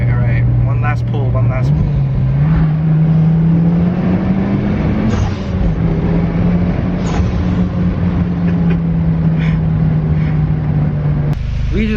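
A 330hp Mitsubishi Evo pulls hard, its engine drone rising steadily in pitch and holding loud and close from inside the car, with faint voices briefly underneath.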